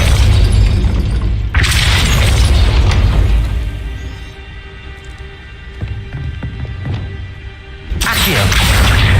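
Depulso force-push spell in Hogwarts Legacy: a heavy booming blast opens, followed by rumbling mechanical clanks and thuds of a gate shifting, then a second loud whooshing impact at the end, with a voice briefly heard.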